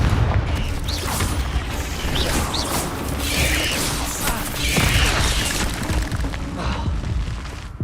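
Confringo blasting spells go off in Hogwarts Legacy as a string of bursting booms and shattering crashes over clattering, mechanical game noise, with a voice heard briefly.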